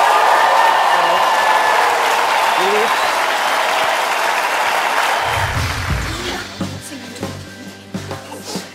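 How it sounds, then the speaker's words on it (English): A large audience at a school choir semi-final gives loud, sustained applause for Ysgol Ystrader, the clapping thinning toward the end as voices begin to speak. "a huge round of applause for Ysgol Ystrader"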